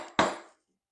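A single sharp tap of a hammer on a chisel cutting a hand-cut dovetail in wood, close and brief, with a short ringing decay before silence.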